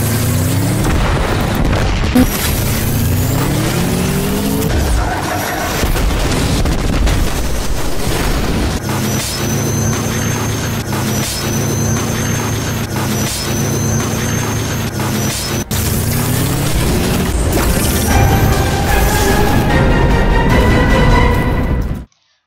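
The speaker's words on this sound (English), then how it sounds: "It is an exotic trace rifle, and when you shoot, you still have to fight the recoil to keep it stable." A Coldheart exotic trace rifle fires continuously in Destiny 2 gameplay, a loud, steady humming beam with rising and falling tonal sweeps and booming impacts, running almost without break.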